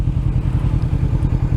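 A motorcycle cruising along a road on a ride out, its steady engine rumble loud and close throughout with continuous low throbbing and no voices.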